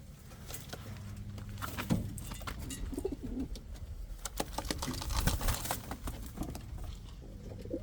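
Indian Fantail pigeons cooing softly amid light pattering and scattered clicks, with a low, continuous murmur of calls.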